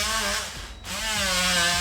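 A power drill bores a hole through an exterior house wall for running cable, its steady loud whine dipping briefly mid-way before picking back up at full speed.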